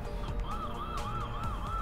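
A Uniview Tri-Guard security camera sounds its built-in siren alarm, a rapid rising-and-falling electronic wail that repeats steadily, heard at moderate volume over a faint background hum.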